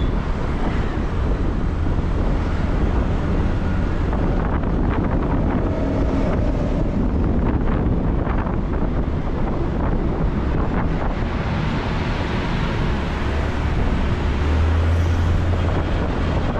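Steady, heavy wind buffeting against the microphone, a constant low rumbling roar that never lets up.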